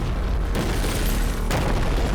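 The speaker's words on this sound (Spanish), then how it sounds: "una ensordecedora explosión expone un terrible secreto" A deafening explosion rips through a sleeping village at night, a sustained, loud, broadband roar and rumble filling the whole stretch, with a second surge of blast noise swelling about two-thirds of the way in.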